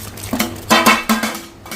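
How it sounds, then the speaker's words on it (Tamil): A spoon scrapes and clinks against a metal pot while curry is stirred, a few quick close knocks and scrapes in an irregular rhythm. "இப்போ கலந்து விடுவோம்."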